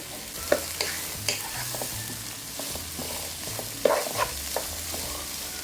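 Carrots and beans stir-fried for thoran in a pan, with steady soft sizzling broken by repeated scraping stir strokes of a spoon, close and continuous with no talking.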